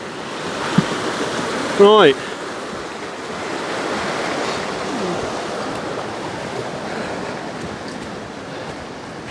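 Swollen River Barle rushing steadily after rain near Withypool, Somerset, a broad continuous roar of flowing water with a brief spoken word near the start.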